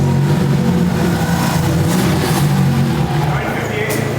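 A 1200hp all-wheel-drive K-Series Honda EG roars on a dyno, its loud, sustained engine note holding steady close by before easing slightly near the end.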